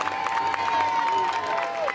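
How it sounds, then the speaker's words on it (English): Crowd at a high school football game between the Frederica Academy Knights and Trinity Crusaders, a steady distant roar of cheering and yelling from the stands with a whistle-like tone running through it. "You hear the Trinity crowd getting in it."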